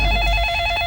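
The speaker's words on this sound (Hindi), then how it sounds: "जरूर सुष्मिता का ही फोन" An indoor telephone rings with a steady electronic warbling trill, loud and close, in a Hindi sitcom home, heard briefly alone without talk.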